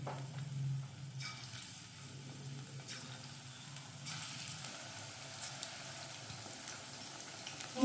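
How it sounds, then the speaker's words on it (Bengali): Katla fish pakoras fry in hot refined oil in a kadai, a soft continuous sizzle with faint bubbling and occasional small pops, steady and fairly quiet with no talk. "এবার আস્তে আস্তে এখানে মাছের পকোড়াগুলো ছেড়ে দেবো।"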